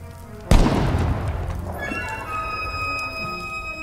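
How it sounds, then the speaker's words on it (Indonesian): A single sharp, loud sniper rifle shot cracks out, followed by a long rolling echo that fades slowly. "suara tembakan senapan jitu kembali terdengar"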